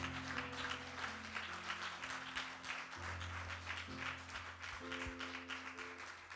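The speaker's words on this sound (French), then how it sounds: "Aidez-moi à acclamer pour sa mémoire." A church audience claps in memory of a bishop, sustained applause from many hands with a musical keyboard drone playing beneath.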